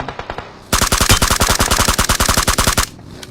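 Rapid automatic gunfire in PUBG Mobile rattles out in a long, loud, evenly spaced burst, preceded by a few softer shots, with game-like sound effects.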